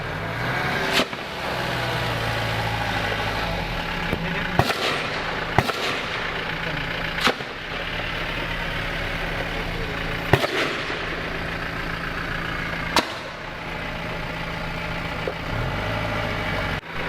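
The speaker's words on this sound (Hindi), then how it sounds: "इस मकान के एक हिस्से में देखिए फायरिंग की आवाजें आ रही हैं" Sharp gunshots ring out at a house in the Mir Bazar area of Kulgam, Jammu and Kashmir, during an encounter in which part of the house has burned. About seven scattered single reports cut through a steady background rumble, with faint voices in between.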